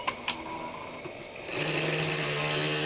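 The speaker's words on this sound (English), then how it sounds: "that's a loud fan" A loud computer fan on an old Windows 3.11 machine booting from a floppy disk spins up after a few faint clicks, becoming a steady whirring hum that holds to the end, close and without talk.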